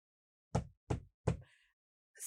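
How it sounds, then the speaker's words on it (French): Three sharp knocks on a door in quick succession, close and fairly loud, followed by a faint brief sound and then quiet. "Elle frappe à la porte et elle demande à Henri d'ouvrir cette porte."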